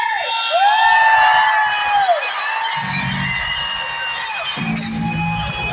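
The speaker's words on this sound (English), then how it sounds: "Knights coming about. And the crowd goes crazy." Crowd at a jousting match cheering and whooping loudly, a sustained roar with shrill whistles and shouts rising and falling throughout, close and dense, with a low thudding impact midway.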